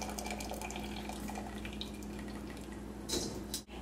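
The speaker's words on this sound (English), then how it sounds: "I'm going to drain the octopus out of the pan" Water from boiled octopus being drained out of a pan, a soft continuous pouring and trickling close by, fairly quiet, ending with a brief louder splash.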